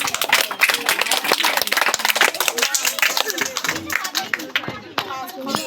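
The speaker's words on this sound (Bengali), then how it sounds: "স্বস্তিকার জন্য একটা জোরে হাততালি" A group claps loudly for a child winning a prize at a drawing competition, with dense, uneven clapping throughout and voices talking over it.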